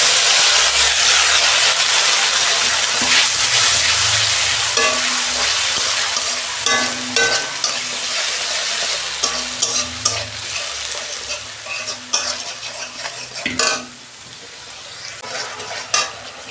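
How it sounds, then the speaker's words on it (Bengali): Onion paste frying in oil with cloves and cumin in a pan: loud, dense sizzling that gradually quiets, overlaid by repeated spatula scrapes and knocks against the pan, heard up close without talking. "পেঁয়াজটা আমার কষানো হয়ে গেছে।"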